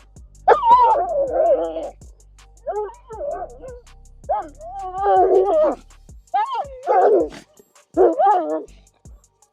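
A police K9 dog whines, yips and grumbles in bursts of varied pitch, close and clear, with short pauses between vocal outbursts.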